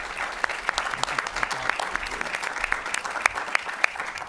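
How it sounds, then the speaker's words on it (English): A moderately sized audience applauds panelists after a discussion on Mexico's energy reform, giving a steady wash of clapping with scattered sharper individual claps standing out, continuous and without voices. "I want to ask you to join me in giving a round of applause to our panelists."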